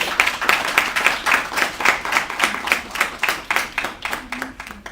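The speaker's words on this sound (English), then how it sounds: "I think you deserve yourself a round of applause." Clapping from the audience at a micro grant award presentation ceremony, in steady, rhythmic bursts that sound almost in unison. It stays fairly loud and close for the whole stretch, with no voices.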